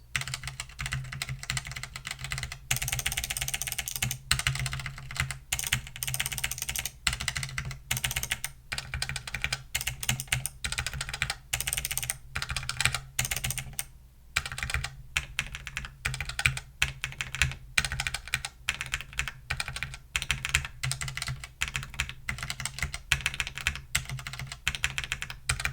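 Steady, continuous typing on a mechanical keyboard fitted with Kailh V2 switches, dense clacky keystrokes at close range, with a brief pause midway and no talking.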